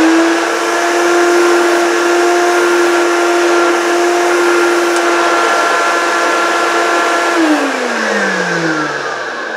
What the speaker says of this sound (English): Now, let's do some upholstery cleaning.